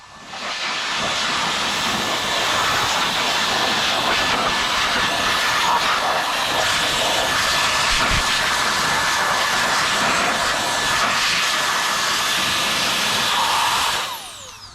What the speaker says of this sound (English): But it's an air compressor. So this is the first setting, second, third.